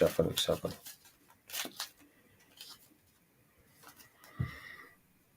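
Tarot cards are shuffled by hand in short riffling, flicking bursts, loudest at the start and then scattered and softer, with quiet gaps between them.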